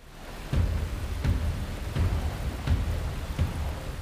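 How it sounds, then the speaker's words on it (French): Heavy rain hisses continuously during a dangerous thunderstorm at sea with 110 km/h winds, while deep rumbling thuds of thunder roll in at a steady pace underneath. "un éclair en zigzag confirme un dangereux orage"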